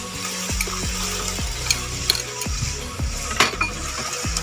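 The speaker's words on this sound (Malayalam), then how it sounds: "നമുക്കിതൊന്ന് ഇളക്കി കൊടുക്കുന്നുണ്ട്. നന്നായി ഒന്ന് മിക്സ് ചെയ്ത് കൊടുക്കണം." Ginger and garlic paste, green chili, coriander and mint being stirred in a pan for dum biryani, a steady sizzle with repeated scraping and clinking strokes of a spoon against metal, close and without talk.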